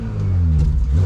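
A Porsche Cayenne 3.0 E-Hybrid with a stainless steel exhaust revs with its exhaust valve shut, giving a loud, steady low rumble close by from the rear of the car, with no talk.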